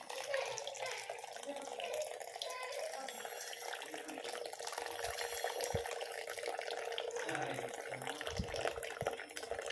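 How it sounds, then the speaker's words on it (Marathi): Water poured out of a pressure cooker pot while making sweet, spicy and sour lemon pickle, a steady splashing, trickling stream close by that runs continuously throughout. "हे असं पाणी सगळं ओतून काढायचं आहे आपल्याला"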